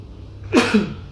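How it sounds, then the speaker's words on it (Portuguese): A single sneeze, close and sharp, in two quick bursts over a quiet background. "Desculpa o espirro."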